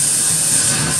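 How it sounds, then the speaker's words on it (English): Cleaner sprayed from a can onto a Cambridge Audio Stream Magic 6 streamer with an intermittent transmitter chip fault, a single close, steady hiss filling the whole brief moment. "But then you can spray it."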